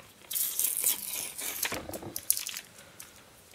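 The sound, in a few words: peeling strong adhesive tape off a cube's box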